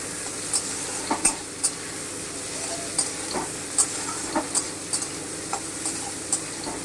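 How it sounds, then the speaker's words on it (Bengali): Chopped onions fry with garlic in a pan, a steady close sizzle punctuated by a dozen crisp, regular taps of a spatula against the pan, no voices. "রসুনটা একটু ভেজে কুচনো পেঁয়াজটা দিয়ে দিলাম"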